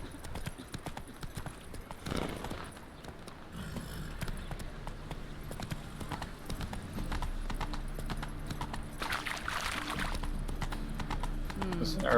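Hooves of Roach, a horse in The Witcher 3, clip-clop at a trot in a steady rhythm, and someone talks over much of it while game ambience and music run underneath.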